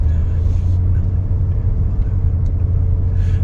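A line of cars idles and creeps along a narrow road at Acadia National Park, a steady close engine rumble with no clear revving. A voice speaks faintly underneath.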